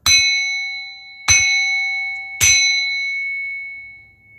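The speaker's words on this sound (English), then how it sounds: "I'm going to bang this bell" Three loud, ringing bell strikes spaced about a second apart, each with a sharp attack and long, shimmering metallic decay; no talk.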